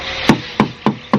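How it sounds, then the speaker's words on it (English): Four evenly spaced hammer knocks on wooden column formwork during concrete pouring, each a sharp hollow thud, close by with brief quiet between strikes. "so it's just knocking it using the"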